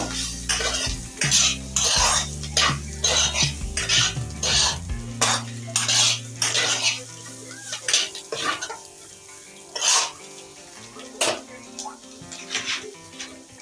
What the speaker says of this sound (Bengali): এবার এটা একটু নাড়াচাড়া করে নেব